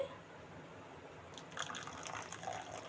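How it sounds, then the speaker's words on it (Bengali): Hot water poured into a bowl of semolina to soak it, a soft faint trickle and splash that swells partway through, heard alone at low level. "এই জলটা দিয়ে আমি সুজিটা ভিজিয়ে রাখবো"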